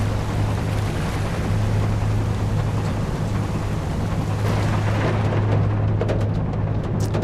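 Rain falls on a ship in the video game Seafarer: The Ship Sim, a constant dense hiss over a low droning engine hum, with no distinct thunderclap standing out.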